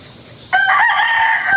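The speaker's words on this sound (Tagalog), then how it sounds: "Maririnig mo lang tilaok ng manok." A single rooster crows once, clear and fairly close, against a quiet background.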